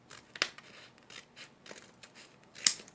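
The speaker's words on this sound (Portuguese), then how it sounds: "vou pegar a tesoura e vou cortar aqui nessas linhas" Scissors cut along drawn lines on paper, giving sharp snips and soft rustling slides that repeat irregularly, close and quiet, with no talking.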